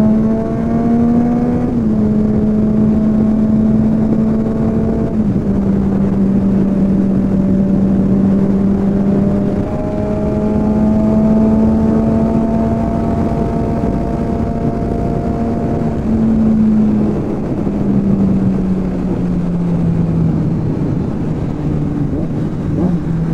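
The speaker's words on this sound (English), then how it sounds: "I'm trying to see if the Zoom will give me some good background audio, especially of the engine" Honda CBR600RR motorcycle engine hums steadily while riding at around 65 mph, pitch rising and falling slightly with throttle under heavy wind rush, loud and continuous with no talk.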